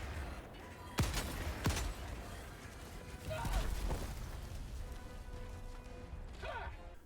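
Anti-materiel rifle shots in the Helldivers 2 game: two sharp, loud cracks about a second apart, then quieter mechanical clanks and softer distant blasts amid battle noise, with someone talking throughout.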